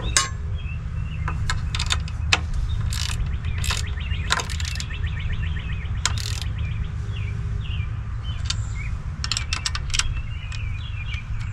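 A ratchet tightens bolts during a Hydro Shield install, giving close, sharp clicking bursts in irregular runs over a steady low hum throughout.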